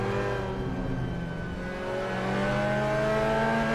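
Clubman race cars braking and accelerating through a chicane at a race circuit, a close, loud engine drone with rising and falling harmonic pitches as revs change, sustained throughout with no talk.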